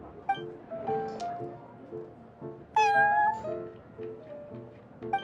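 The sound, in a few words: cat meowing in Genshin Impact video game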